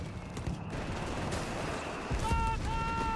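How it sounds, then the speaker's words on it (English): Mortar blasts and gunfire in the real-time strategy game Company of Heroes 3, a steady dense battle rumble with scattered reports and a couple of sustained tonal whistles near the end, with no speech over it. "Mortar continues to be a nuisance here for F3rig."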